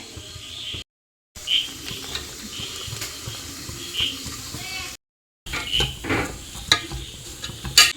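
Chopped onion with green chilies and curry leaves sautéing in a pan for chicken curry, giving a low steady sizzle with a few spoon scrapes and clinks, close by and moderately loud, broken by two short gaps.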